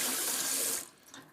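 Hot water runs steadily from a tap in a loud, close hiss, then cuts off and fades to a quiet trickle.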